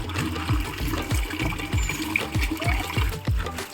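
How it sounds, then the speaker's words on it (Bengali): Water is poured over a dog during a bath outdoors, coming as a steady run of rhythmic splashing, gushing pulses about twice a second, close and fairly loud, with no talking. "পুতিনের গায়ে যাতে পোকা না থাকে তার জন্য স্নান করানো হচ্ছে"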